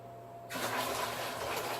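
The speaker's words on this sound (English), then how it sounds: "I'm just going to use this cup to get 10 gallons of water out" Cup scooping water out of a reef aquarium during a water change, a sudden rush of sloshing, pouring water starting partway through and continuing steadily at close range.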